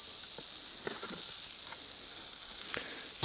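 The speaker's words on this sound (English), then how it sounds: "And we're just going to heat those up and saute them a little bit." Diced apples with cinnamon and a tab of butter sizzle in a cast iron pan, a steady soft hiss running throughout with a few faint scattered pops and crackles, no voices.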